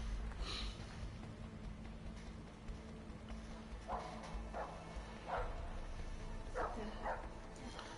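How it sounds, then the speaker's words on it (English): A dog in the video game A Way Out gives several short barks spaced over a few seconds, moderately loud over low game ambience, with a voice talking briefly. "I don't know what type of dog that is."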